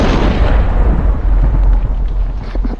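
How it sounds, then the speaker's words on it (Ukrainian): A heavy thunderclap from a Minecraft thunderstorm rumbles loudly and rolls on for a few seconds, a deep booming roar that gradually settles into a lower grumble. "Гроза прям ну дуже жорстка"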